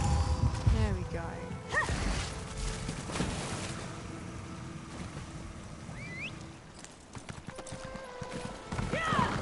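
Hooves of a horse clip-clop in The Elder Scrolls Online, an uneven rhythm of close thuds and clacks mixed with game effects, tonal chirps and whooshing sounds, with a voice speaking intermittently over it.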